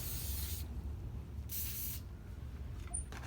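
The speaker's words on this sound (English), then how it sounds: "I'm gonna use a light spray." A light spray is applied before pieces are put on, two short bursts of hiss from an aerosol can, close and loud, followed by faint handling sounds.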